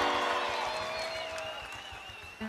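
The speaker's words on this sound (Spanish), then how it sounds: "Aplauso para la pareja número tres." Applause from a festival crowd in Caracas for the third dance couple, a steady clatter of clapping that slowly thins out, with a tonal musical hum running underneath.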